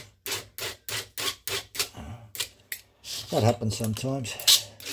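Hand file rasping the depth gauges of a 3/8 standard full chisel chainsaw chain: a steady run of about six close, rhythmic strokes, then a few rougher strokes as a person talks over them.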